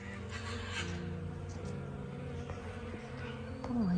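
Bees buzz steadily around a hive in a garden, a dense, close insect drone that carries throughout with a slight swell near the end.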